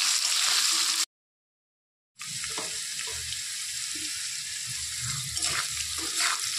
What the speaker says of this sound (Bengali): তো আলুগুলোকে ভেজে নেব।